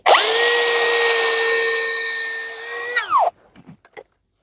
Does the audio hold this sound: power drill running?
yes